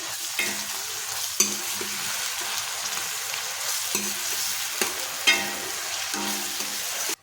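Chopped tomatoes and salt stirred into fried onions in a hot pan, a continuous close sizzle broken by repeated scraping strokes of a spoon and a few sharp clinks.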